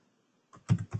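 Keys clatter on a computer keyboard while a command is entered during an Oracle Database 11g Express Edition installation: a faint tap, then a quick run of louder clicks in the final half second.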